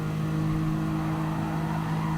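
A Nissan R32 race car in GT Sport at Bathurst holds a loud, steady engine drone, close and continuous with no pauses.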